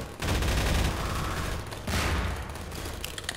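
Automated turret gunfire in Half-Life 2, loud sustained bursts of rapid shots with a brief pause before firing resumes.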